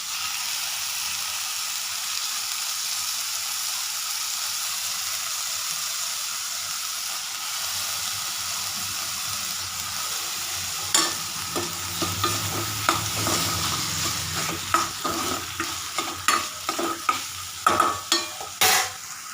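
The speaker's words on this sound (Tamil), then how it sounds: "பேஸ்ட் பச்சை வாசம் போகிற போகிற அளவுக்கு வதக்கியாச்சு இதில் தக்காளி சேர்த்துடலாம்" Tomatoes and paste sizzle steadily in a hot pan for quail gravy, a constant close frying hiss, with a spatula scraping and tapping the pan more often toward the end.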